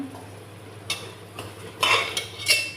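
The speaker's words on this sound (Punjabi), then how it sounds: "ਚੰਗੇ ਤਰੀਕੇ ਨਾਲ ਆਪਾਂ ਇਹਨੂੰ ਮਿਕਸ ਕਰ ਦਾਂਗੇ" A spoon scraping and clinking in a pan while soya chunk curry is stirred, a few soft metallic strokes over a faint background hum, with no speech.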